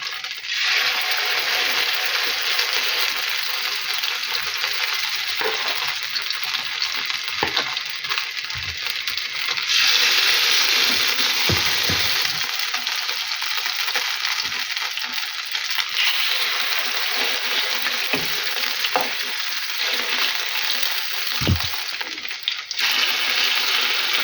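Continuous hissing sizzle of potato pancake batter frying in hot oil in a pan, steady throughout, with occasional soft clinks and scrapes of a utensil.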